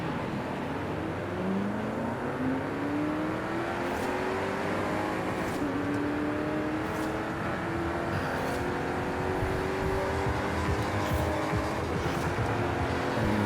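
Ford GT40 race car engine in a Forza Horizon 5 street race, droning and revving steadily throughout with rising and falling pitch as it accelerates and shifts, loud and close with no talk.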